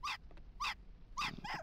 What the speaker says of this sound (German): Die Hunde sind natürlich unangenehm